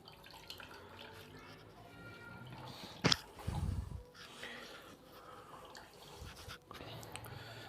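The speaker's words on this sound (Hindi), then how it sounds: "मलमल के कपड़े से आलूओं का जो पानी है वो अच्छे तरीके से खुश्क कर लिया है" Water squeezed out of grated potatoes through muslin cloth, a soft close trickle and drip with a brief louder splash midway over a quiet background hum.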